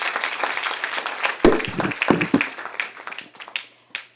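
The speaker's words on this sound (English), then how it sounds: "Can we have a round of applause for them?" Audience applause for children at an education centre event, a few seconds of loose, uneven clapping that thins out and fades to a few last claps.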